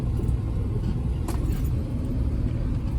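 An off-road vehicle runs at full throttle through winter snow while stuck during a recovery, its engine producing a steady, loud, close low rumble that continues unbroken throughout.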